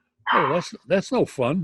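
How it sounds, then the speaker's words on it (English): A pet dog barks and yips in short, close, loud bursts, making odd vocal sounds that blend with a person talking over it. "No, that's my dog"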